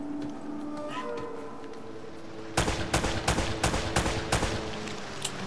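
Gunfire in the video game Uncharted, a quiet ambient opening followed by a burst of repeated loud shots in quick succession.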